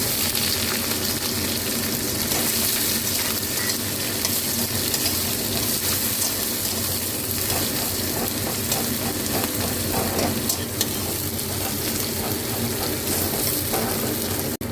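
Chopped onion frying in mustard oil with black cumin, giving a steady, dense sizzle and crackle that runs unbroken from start to finish, close and fairly loud, with no talking.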